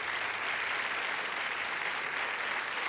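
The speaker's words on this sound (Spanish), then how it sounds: "Un aplauso para él." Steady studio-audience applause on a Chilean TV variety show greets Chilean poet Genaro Gajardo, known as the owner of the moon; dense, even clapping fills the whole stretch without pause, no voices over it.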